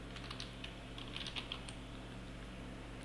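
Typing on a computer keyboard, a quick run of light, close clicking keystrokes over a low steady hum, with a brief burst of faster taps in the middle and no talking.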